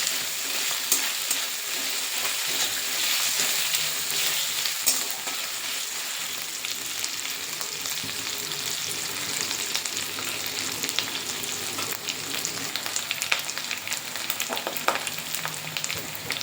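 Spice paste with a spoonful of ginger-garlic paste fries in a pan for an echor chingri curry, crackling steadily and densely with a busy, even sizzle throughout.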